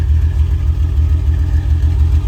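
A BMW E30 engine running a Megasquirt 3 plug-and-play ECU idles loud and close, with a deep steady rumble and a slight rhythmic chop, alone with no talking.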